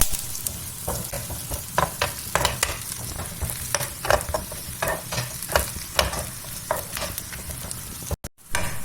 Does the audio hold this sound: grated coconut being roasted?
yes